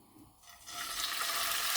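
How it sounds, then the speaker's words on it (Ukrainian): Pieces of pork fry in hot oil in a pan for a pork paprikash, a soft sizzle swelling into a loud, steady hiss that fills the short clip. "І поки обсмажується м'ясо"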